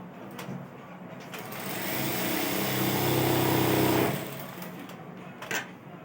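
A Juki industrial sewing machine runs in one continuous stitching burst of several seconds, a steady high mechanical whir that rises in and falls away, with quieter workshop clatter before and after.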